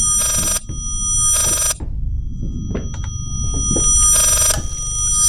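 Telephone bell ringing inside the horror video game Layers of Fear, two loud bursts of ringing separated by a gap with faint game ambience, then a third burst near the end.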